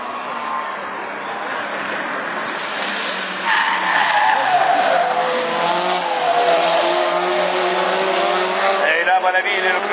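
A Renault Twingo rallycross car races through the corners at a Lessay rallycross event, its engine roaring loud and close with long squealing, skidding tyres that swell midway, while a commentator talks over it.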